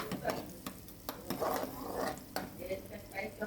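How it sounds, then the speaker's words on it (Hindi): Onions sautéing in hot cooking oil for chicken samosa give a soft sizzle broken by repeated scraping and stirring strokes, close and fairly quiet. A voice murmurs faintly in the background. "5 से 6 मिनट के लिए अच्छी तरह से अनियन को आपने सौते करना है।"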